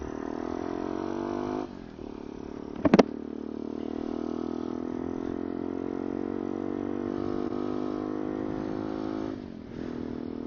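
A motorcycle cruising along back roads, its engine holding a steady droning tone with a brief change around a gear shift and a short sharp click midway, continuous and close.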